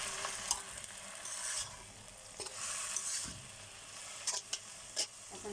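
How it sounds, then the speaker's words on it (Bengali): Jute leaves fry in a pan with a steady, close sizzle, broken by occasional stirring scrapes and small crackling pops. "শাকটাকে আমি ভাজা ভাজা করে নেব"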